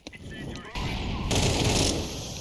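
Gunfire in a video game scoring headshots, with a sharp crack at the start followed by a dense, rumbling burst of shooting and game noise that swells, then eases off.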